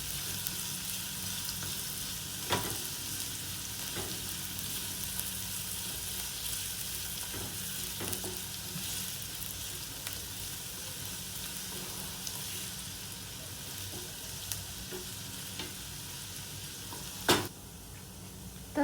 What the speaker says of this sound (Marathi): बारीक चिरलेला कांदा टाकते आणि कमी गॅसवर थोडंसं गोल्डन ब्राउन कलर होईपर्यंत तुम्ही याला